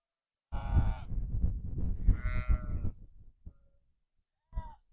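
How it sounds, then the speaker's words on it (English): Several sheep in a field bleat loudly and close, overlapping calls for a few seconds, then a short final bleat after a quiet gap. "Here's all those little noisy sheep that you could hear in the background."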